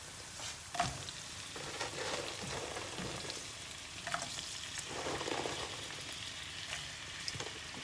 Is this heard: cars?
no